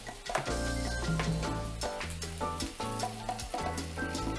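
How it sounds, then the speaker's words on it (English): Beef and potatoes with oregano and cinnamon sizzle gently in a pan, a steady close frying hiss with light stirring scrapes, while tonal background music plays. "Just mix them all up and we'll cook them gently"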